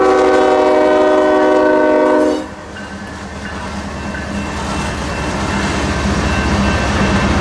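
CSX M200 freight passing, an auto rack train also carrying manifest freight: a loud, sustained horn blast cuts off after about two seconds, leaving a steady roar and rumble of rolling cars close by.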